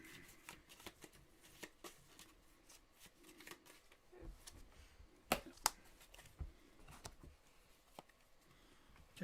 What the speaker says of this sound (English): shuffle these together when you're down.